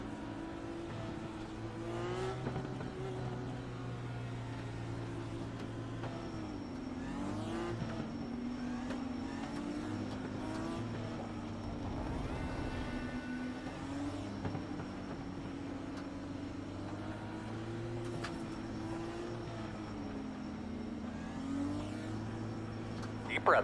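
NASCAR Xfinity Series race car engines droning steadily at Michigan in a racing video game, with a continuous layered hum and shifting engine pitch, with talk heard over the sound.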